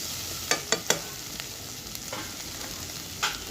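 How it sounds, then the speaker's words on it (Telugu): Ivy gourd with coconut fries in a pan under a soft, steady sizzle, broken by several quick scraping clicks of a spatula stirring, three close together early on and a few scattered later. "ఇదిగోండి ఇప్పుడు బాగా ఫ్రై అయింది కదా."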